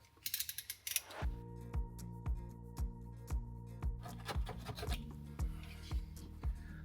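A hole is cut to mount a reading lamp, heard as close, steady rhythmic rasping strokes of about two per second with a mechanical scraping edge, following a brief clatter at the start, with no talk.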